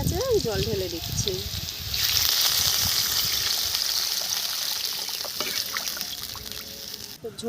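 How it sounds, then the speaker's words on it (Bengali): Water poured into a pan of fried potatoes while making a light fish curry, a steady watery rush and sizzle that swells mid-clip and fades, with a voice speaking over the start. "আলু ভাজা হয়ে গেছে, জল ঢেলে দিচ্ছি।"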